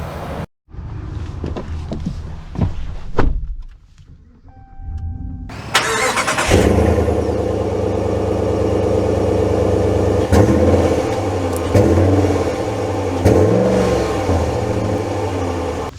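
A 2024 Ram 1500 Big Horn Night Edition pickup cranks and fires up after a few quiet seconds, then settles into a loud, steady engine drone with several rising and falling revs as it pulls away.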